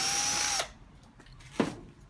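A power drill whines steadily for about half a second while backing short screws out of the rear panel of a Beko DRCS68W tumble dryer, then stops, followed by a brief second burst.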